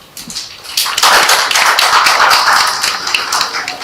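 A warm round of applause from a fashion law and business conference audience welcoming a speaker to give opening remarks, dense clapping rising quickly after a brief pause and sustained loud and close before easing slightly.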